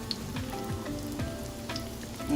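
Chicken and potato kababs coated in egg frying in hot oil, a soft steady sizzle with faint crackles throughout, no voices.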